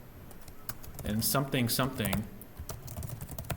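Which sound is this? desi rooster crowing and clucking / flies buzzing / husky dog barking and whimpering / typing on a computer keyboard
typing on a computer keyboard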